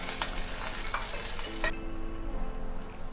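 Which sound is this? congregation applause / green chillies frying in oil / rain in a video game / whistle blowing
green chillies frying in oil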